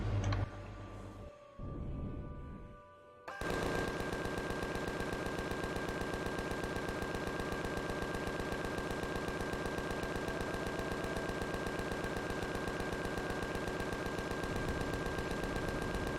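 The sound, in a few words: minigun turrets firing in Empyrion Galactic Survival video game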